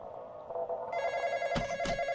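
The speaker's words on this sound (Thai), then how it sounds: "เดี๋ยวเริ่มรับโทรศัพท์เลยครับผม" A telephone rings inside the Roblox horror game Intruder on hard mode, a steady electronic bell tone that swells louder partway through with a few brief bursts on top, heard alone without talk.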